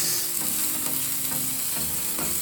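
Beef fried rice with kangkong is stirred in a hot pan, a dense continuous sizzle and frying hiss with soft scraping strokes of the spatula, loud and close throughout.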